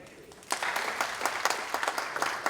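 Audience applause at a keynote talk, clapping that breaks out suddenly and carries on steadily with a few sharper claps on top, moderately loud in a hall.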